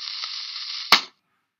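A sustained bright whooshing tone ends in a single sharp bang, followed by quiet, like an arcade-style cannon shot from a cannon nose in the video game Feed the Head.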